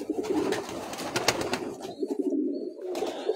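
Pigeons coo in soft, repeated low throaty calls from a rooftop loft, fairly close, with faint background noise and no talk.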